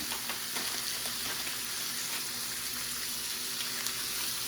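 A homemade ground beef hamburger patty with onion frying over low heat, a steady, even sizzle with a few faint stirring sounds, no talk.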